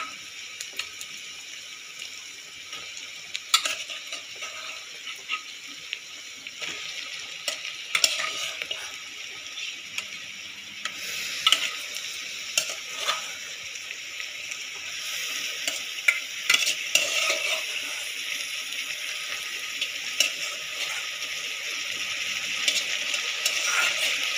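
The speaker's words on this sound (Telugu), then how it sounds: "ఒక 5 నిమిషాలు మటన్ ఇలాగా ఫ్రై చేసుకున్నాం" Mutton pieces fry and sizzle in a pan while being stirred, with a steady hiss and scraping stirs continuing throughout at close range, no talking.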